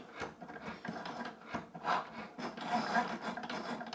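Cricut Joy Xtra cutting machine cutting out Easter card pieces, a quiet close-up rubbing, scraping whir with a fluctuating rhythm as the blade carriage moves back and forth, soft and continuous.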